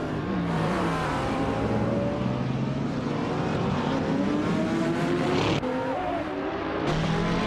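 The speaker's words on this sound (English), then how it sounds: "Official Class Live is driving a 2021 Chevrolet Camaro in the Trans Am Class Totes." A 2021 Chevrolet Camaro engine in the Trans Am class of a racing video game, revving loudly and steadily with rising and falling pitch through gear changes, close and continuous.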